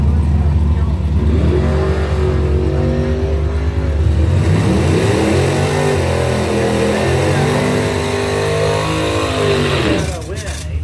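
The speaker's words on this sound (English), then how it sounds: "86 Camaro from Free Soil." A 1986 Chevrolet Camaro race car revs loudly nearby and accelerates in rising, sweeping engine pulls, with an announcer's voice running over the roar until it drops off near the end.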